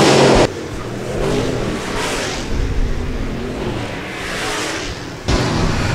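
USRA stock cars racing at Rapid Speedway during a heat race, a loud roar of engines at speed with passing surges at the start and end and a steadier rumble between.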